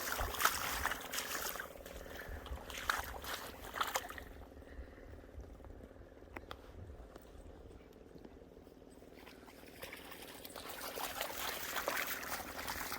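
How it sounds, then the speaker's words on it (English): River water flows and trickles steadily close by, a soft continuous wash that swells and fades, with faint splashes. "We listen to the water go by."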